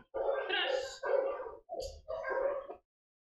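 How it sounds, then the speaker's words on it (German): Several dogs in animal shelter kennels bark in a few loud, drawn-out bursts close by, then fall silent. "die ganzen anderen Hunde und drumherum. Die bellen alle"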